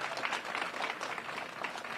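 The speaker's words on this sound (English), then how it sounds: "Let's give the governor another round of applause," An audience applauds a governor at a ribbon-cutting event in Blue Island, Illinois, with steady, dense clapping from a crowd that holds evenly throughout without a break.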